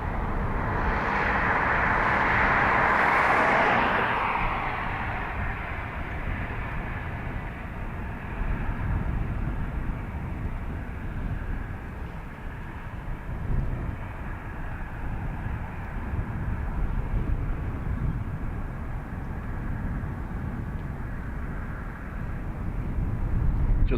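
A Southwest airliner takes off from runway 28 right at Dublin Airport, its engines roaring close and loud at first, then settling into a steady, distant rumble that slowly fades.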